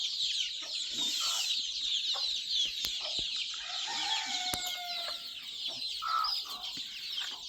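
Free-range native chickens and chicks cluck and chirp steadily over constant hissing background noise, with a few sharp clicks; moderately quiet and close, no talking.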